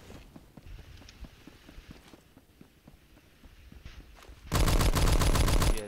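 Gunfire in the console version of Roblox Phantom Forces: scattered shots and footsteps at first, then a loud, dense burst of rapid automatic fire close up at the end, with no talking.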